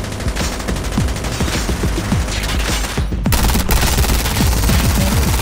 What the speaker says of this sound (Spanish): si no has disparado de cadera con la chopper